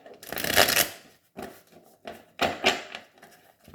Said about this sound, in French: je vais vous tirer 4 cartes